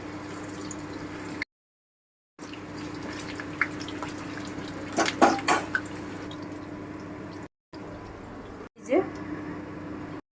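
Ripe banana malpoya batter frying in hot oil: a steady, soft sizzle and crackle with a few sharper spits, heard close under a voice, with brief silent gaps.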